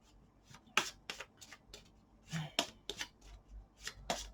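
Tarot cards shuffled by hand for a love reading, a series of soft slapping and riffling bursts in an uneven rhythm, close and quiet with a low hum beneath.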